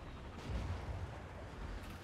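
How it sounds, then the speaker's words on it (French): Cannon fire in a Total War: Warhammer 2 multiplayer battle, a muffled distant boom swelling around the middle over a low rumbling battlefield bed, moderately faint. "les canons malfoudre ont plus de portée que nous"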